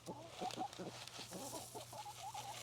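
Chickens cluck softly at a distance in a farmyard, a few short repeated calls over a low steady background hum.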